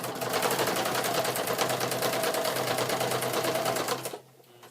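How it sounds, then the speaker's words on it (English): A sewing machine runs in a steady rapid stitching rattle over old handmade lace, loud and close for about four seconds before cutting off abruptly. "So I'm going to just do a bunch of stitching."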